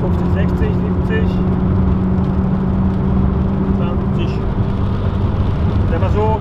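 A McLaren 570S sports car speeding up on the open road, its engine a steady loud drone heard from inside the cabin while someone talks over it.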